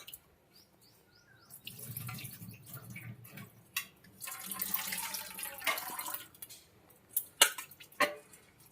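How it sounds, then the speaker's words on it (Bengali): Lentils being washed under running tap water in a sink, a gentle flow and splashing that builds midway with a few sharp drips and clinks, while birds chirp faintly in the background. "সবসময় ডাল রান্নার সময় ডালটাকে ভালো করে ধুয়ে নিতে হবে"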